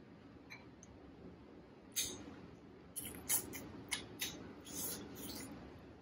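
Scissors snipping through snow crab leg shells at a close-up mukbang table, several sharp crisp cuts and cracks in short separate bursts, fairly faint over a quiet room.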